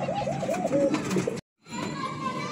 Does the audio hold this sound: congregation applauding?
no